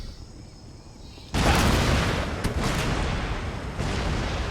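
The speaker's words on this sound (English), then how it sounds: "We're going to turn on the artillery any second now." Artillery fire in the strategy game Empire: Total War booms in suddenly after a quiet stretch, a loud rolling barrage of cannon blasts with several sharper reports layered over a continuous rumble.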